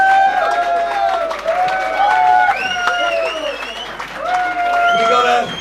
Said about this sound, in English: we've got to give a round of applause to our 3 referees